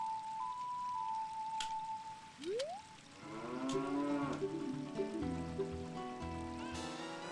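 Cows moo in the video game Zelda: Ocarina of Time, with a rising synthetic low followed by a sustained, tonal moo over a soft game hum, no talk.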